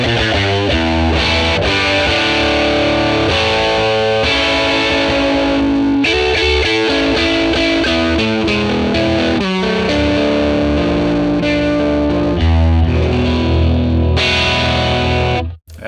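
Electric guitar played through a dimed, warm model of a 1957 Tweed Bassman amp, loud and heavily driven chords and riffs ringing continuously with no talk.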